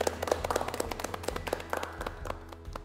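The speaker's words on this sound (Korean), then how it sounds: "박수 한번 좀 드리도록 할게요" Scattered applause for a professor from a small audience at a talk show, with distinct individual claps and uneven rhythm rather than a dense roar, fairly faint and close.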